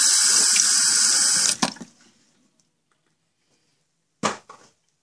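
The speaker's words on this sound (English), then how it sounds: "Not done washing my face yet!" A bathroom sink tap runs loudly for about a second and a half while someone washes their face, then cuts off, followed by a short splash of water a few seconds later.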